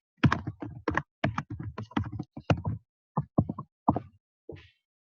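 Login credentials typed on a computer keyboard: irregular clusters of close, crisp keystrokes in quick bursts, with short pauses between runs, heard alone without speech.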